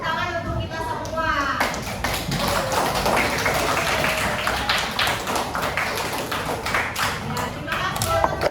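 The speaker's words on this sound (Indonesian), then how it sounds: "Beri tepuk tangan untuk kita semua." An elementary school class in Jakarta claps together at the end of a math lesson: dense, steady patter of many small hands, close and continuous for most of the stretch, with a few louder taps and thumps mixed in.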